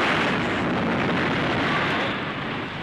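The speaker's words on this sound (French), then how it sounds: "Une caisse de grenades a sauté au milieu des caisses de cartouches." A crate of grenades blowing up among crates of cartridges in a 1938 French military film, heard as a loud, sustained broadband roar of blast and rumble filling the whole clip.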